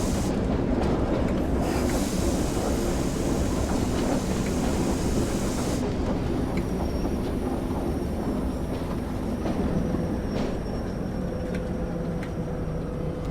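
A Class 08 diesel shunter runs in Train Sim World 2, a steady loud engine drone and rolling rumble with faint rhythmic clicks, wind-like hiss over the first seconds, no talk.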